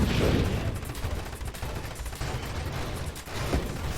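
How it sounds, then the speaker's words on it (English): A turret firing in Nova Drift, a dense, continuous stream of rapid game gunfire over a low rumbling bed, steady and loud with no speech. "Now let's go ahead and put our turret out there."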